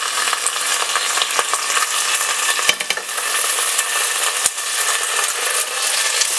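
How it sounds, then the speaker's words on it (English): Ginger garlic paste sautés in a pan for chicken stew with whole cardamoms: a loud, continuous sizzle with scraping and stirring and a couple of sharp clinks of a utensil, close up and without speech. "saute it well"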